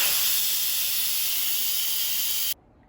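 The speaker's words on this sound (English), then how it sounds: "Now the Instant Pot is done cooking, so let's quick release the steam." Instant Pot quick release after cooking chicken tortilla soup: a loud, steady hiss of escaping steam that cuts off abruptly into near silence.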